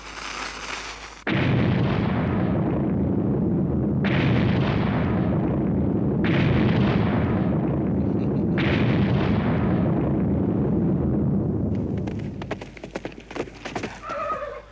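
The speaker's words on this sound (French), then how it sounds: "Tirez sur cette ferme et détruisez-la!" Cartoon gunfire blasting a farm in the Legend of Zorro animated series: loud, sustained booming volleys in several long waves, mixed with horse noises and clattering, dropping to scattered bursts near the end.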